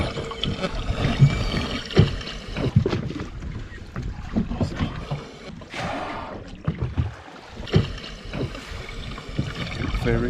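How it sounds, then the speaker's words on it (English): A boat engine runs at sea among pilot whales, giving a steady, rough, fluctuating rumble with a broad wash of noise and no voices. "We can hear a lot of sound coming from the engine of the boat."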